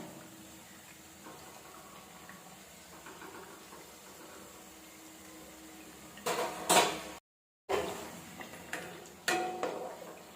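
Thattai rice crackers fry in oil on a medium flame for Diwali, giving a faint, steady sizzle. Utensils clatter and scrape sharply in a burst of clinks between about six and ten seconds. No one speaks.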